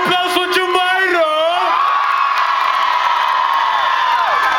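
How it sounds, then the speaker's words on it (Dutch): A rap concert crowd roars with cheers, whoops and high shouts, one loud continuous wall of voices that surges at the start and then holds steady. "Geef een warm applaus"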